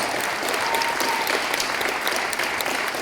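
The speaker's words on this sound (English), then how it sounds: "Let's give them a big round of applause." A school audience applauds senior wrestling champions at a team recognition event, steady dense clapping filling the moment with no one speaking.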